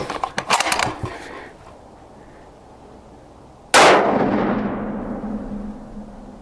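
A single sharp, loud rifle shot from a 6.5mm Creedmoor bolt-action rifle cracks at an outdoor range and rings out in a long decaying echo, after earlier metallic clicks and clatter of handling.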